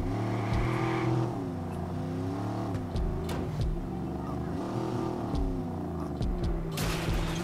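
A muscle car's engine in the open-world game Watch Dogs revs and shifts through rising and falling tones, with skids and clunks mixed in, loud and close throughout.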